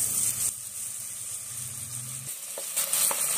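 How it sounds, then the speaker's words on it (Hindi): Small diced potato pieces frying in melted butter over a medium flame, giving a steady close sizzle and hiss with a few brief clinks near the end. "अब सबसे पहले हम इसमें आलू फ्राई करेंगे।"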